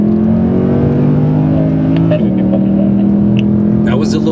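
Mercedes C63 AMG Black Series coupe on track at Laguna Seca, its engine loud and close, pulling steadily in a single gear then shifting and rising again, with brief talk mixed in over the engine note.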